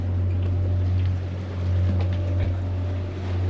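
A sailboat motors along in the wind on a small auxiliary engine, which gives a steady low drone under wind and water noise, close and continuous.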